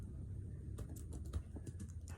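Fingers type on a computer keyboard in an irregular burst of quiet keystroke clicks, faint against a low background hum.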